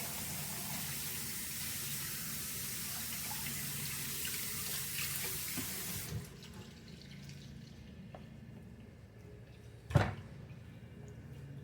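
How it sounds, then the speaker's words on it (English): A kitchen tap runs steadily while hands are washed during Cajun-style sloppy joe cooking. The water stops partway, leaving a quiet room, then a single sharp clack sounds near the end. "Yes, you're gonna see me keep washing my hands."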